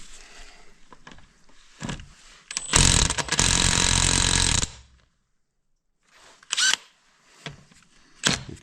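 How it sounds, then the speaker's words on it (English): A power drill runs in one loud, continuous burst of about two seconds, with quieter handling clicks and knocks before and after, close by and with no talk over it. "You need to turn the drill as well."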